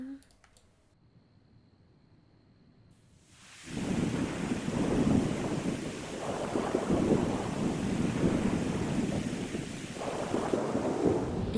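Thunderstorm weather in a Sims life-simulation game: after a quiet start, a loud, continuous rumbling roar of rain and wind swells in and holds steady, with low thunder-like surges.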